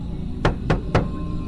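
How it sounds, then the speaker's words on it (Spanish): Three evenly spaced knocks on the door of an old wooden cabin in the woods, sharp and close with a dull resonant body and no voices. "Toqué la puerta."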